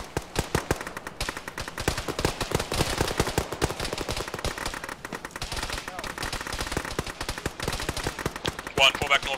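Coaxial machine gun fire in the Arma military game, with dense rapid automatic bursts and scattered other shots rattling continuously for the whole stretch, loud and sustained, with some voices faintly mixed in.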